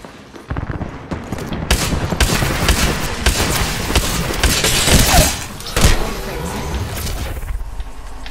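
Fuse's Knuckle Cluster in Apex Legends sets off a dense rapid string of explosive pops and bangs mixed with gunfire, loud and close, forming a sustained barrage with no speech.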